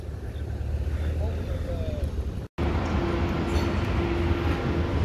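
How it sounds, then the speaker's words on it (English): Berlin U-Bahn train at Potsdamer Platz station with its doors closing, heard as a loud, steady underground rumble and wind-like roar, broken by a brief cut, then a sustained tone over the continuing noise. "I could hear some train doors closing, so I presume I've just missed one."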